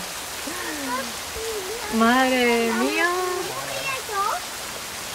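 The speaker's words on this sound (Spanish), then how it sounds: "Lo que está lloviendo." Steady rain patters on a van's roof at Punta San Carlos, a constant hiss beneath people talking and exclaiming in Spanish inside.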